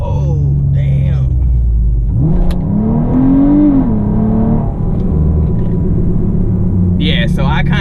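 A car fitted with a Pedal Commander throttle controller accelerates hard in a sport mode, its engine roaring loud and steady with a rising revving whine as the rear tires struggle for grip. Someone speaks briefly at the start and end.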